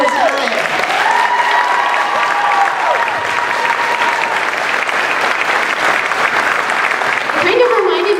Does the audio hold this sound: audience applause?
yes